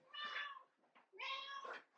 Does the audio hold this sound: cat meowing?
yes